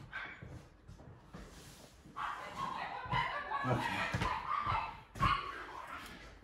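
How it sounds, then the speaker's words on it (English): Small chihuahuas bark and yip excitedly in a lively, overlapping flurry from a short distance off, with one brief spoken word near the start. "Our little chihuahuas are having a heyday down there."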